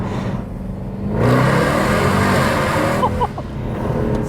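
A W204 Mercedes C63 AMG V8 grumbles at idle and then revs up, a deep, loud, rough rumble that swells and holds. The engine is heard alone, with no talking.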